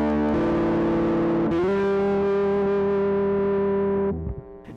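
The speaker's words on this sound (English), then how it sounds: "turn up the distortion all the way" A Walrus Audio Melee pedal with its distortion cranked to maximum gives a heavily saturated, buzzing electric guitar tone. Sustained chords ring loud and unbroken, shifting once partway through and cutting off near the end.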